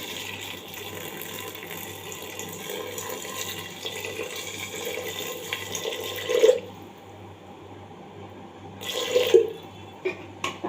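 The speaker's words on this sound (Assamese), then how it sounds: "এতে অলপ পানী দিম" Water pours steadily into a pressure cooker holding rajma (kidney beans) for about six seconds, followed by a quieter pause and a few short splashing spurts at close range.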